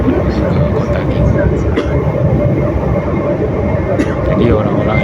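A Meitetsu train runs from Nagoya airport toward Gifu, Japan, its loud steady rumble and wheel noise filling the carriage, with a voice talking over it.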